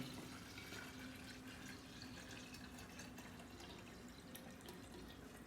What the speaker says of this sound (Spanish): Se le agrega agua tibia,